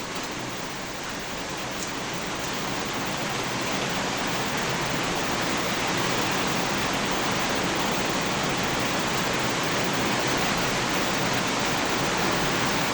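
A night downpour driven by strong wind makes a constant broadband hiss of heavy rain that swells slightly louder at first, then stays steady, with no one speaking.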